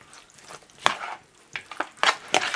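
A spoon stirs a shrimp salad in a bowl, making a few soft, wet scrapes and clinks at an irregular pace, quiet and close.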